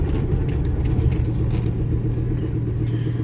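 A manual transmission car pulls away from a stop, a steady low engine rumble and road drone throughout, close and fairly loud, no talk.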